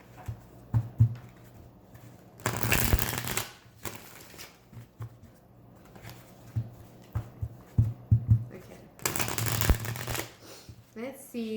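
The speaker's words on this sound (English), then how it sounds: "We're going to do a quick pull with the oracle cards." Oracle cards are shuffled in close bursts of riffling and soft tapping that come in two louder flurries separated by quieter handling sounds.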